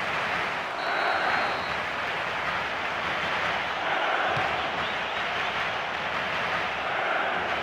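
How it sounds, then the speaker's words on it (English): Stadium crowd in the football video game PES during a Champions League match, Chelsea against Braga: a steady, broad roar of spectators that swells gently in waves, fairly loud and continuous with no commentary over it. "judging by the crowd's reaction, they thought he'd done enough too"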